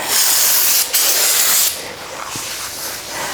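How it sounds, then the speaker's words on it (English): Aerosol brake cleaner sprayed onto the back side of a brake rotor on a 100 Series Land Cruiser during a front brake job, a loud steady hiss lasting about two seconds with a brief break, then a fainter spray. "I'm going to go ahead and clean the back side of the rotor with brake cleaner"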